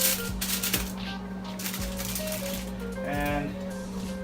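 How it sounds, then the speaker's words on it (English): Aluminum foil crinkles and rattles as it is pressed over a pan of bacon-wrapped tenderloin, in close, crisp bursts over a steady kitchen hum. "I'm going to cover it in aluminum foil"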